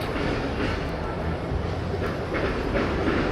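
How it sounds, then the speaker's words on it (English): A white tram passes close by on city rails, a steady loud rumble and rolling hiss with faint clicks of wheels over track joints throughout. "we've got a white tram coming in."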